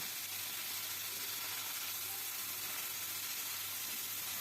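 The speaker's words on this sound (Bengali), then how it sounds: "তেলটা গরম হয়ে গেছে এবার আমি মাছগুলি আগে ভেজে নিচ্ছি" Small Mola fish fry in hot mustard oil, giving a continuous, even hiss and sizzle at low volume with a faint steady hum beneath and no voices.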